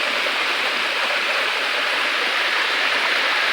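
Water pours down a waterfall stream in a steady, dense rushing hiss, continuous and fairly close, with no other sounds standing out.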